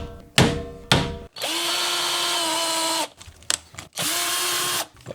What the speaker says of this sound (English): I'm going to get into drilling the holes for this and also finding some appropriate screws